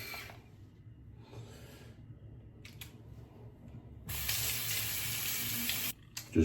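An electric shaver head is rinsed under a running tap, with faint handling noises first, then a bright, steady rush of water for about two seconds that cuts off abruptly, followed by a short clatter.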